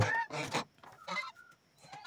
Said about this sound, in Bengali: এখন রাজহাঁসগুলোকে ছেড়ে দেব।